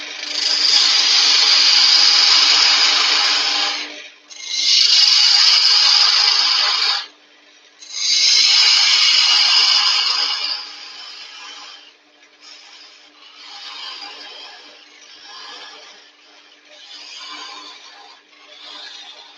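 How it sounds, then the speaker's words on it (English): A roughing gouge cuts away a wooden tenon on a woodturning lathe with steady, loud scraping and rasping in three long passes, then softer, shorter cuts that come in an uneven rhythm. "Steve grabs his roughing gouge to get rid of the tenant."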